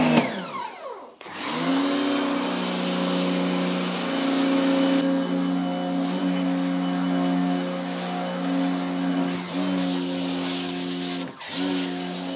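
Snow foam sprayer running steadily beside a BMW E65/E66 7 Series, a loud continuous motor drone with hiss that starts abruptly after a brief pause and holds throughout, dipping briefly near the end.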